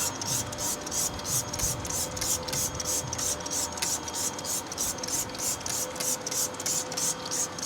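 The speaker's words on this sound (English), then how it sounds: "I went with a standard soft brush to work it in instead" A soft brush scrubs cleaner over forged wheels on a Honda NSX-R, a close, steady back-and-forth rasping in quick regular strokes that repeat evenly throughout.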